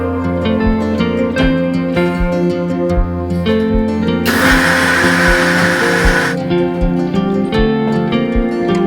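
A mixer grinder whirs loudly for about two seconds, grinding garlic, green chilies and mint leaves, then stops, with steady music playing throughout.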